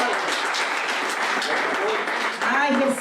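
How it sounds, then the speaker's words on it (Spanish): A congregation applauds during a Spanish-language church service. The clapping is brief and fairly loud, with voices rising over it toward the end. "¿quiénes le pueden dar un aplauso al Señor?"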